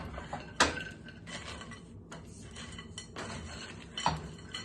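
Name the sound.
mixing gluten-free stuffing in a bowl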